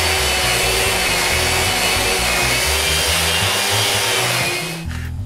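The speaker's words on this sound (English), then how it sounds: "I decide to give the top a rough sanding" Power sander roughing down the top of an old nine-drawer wooden dresser: a loud, steady grinding whir held close and unbroken, easing off just before the end.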